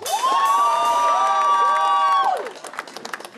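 A crowd at a band's concert cheers with a long, high sustained whoop, then the shout fades into scattered clapping and applause.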